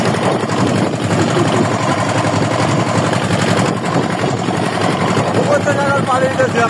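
A boat's engine drones steadily and loudly throughout a crossing of the Mediterranean Sea from Libya toward Italy, with people talking over the continuous rumble.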